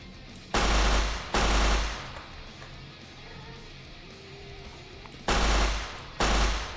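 Automatic weapon fire in Minecraft with the HBM's Nuclear Tech mod, heard as two pairs of loud, dense sustained bursts separated by a few seconds of low background noise.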